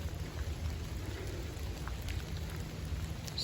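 Rain from a thunderstorm after a long hot, dry spell falls steadily around a workshop, a constant dense hiss of drops with scattered louder taps and no voices.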